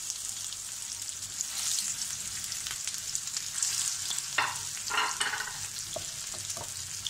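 Chicken shami kebabs shallow-fry in oil in a pan, giving a steady close sizzle and crackle with a few sharper spits and stirring scrapes toward the end, with no voices.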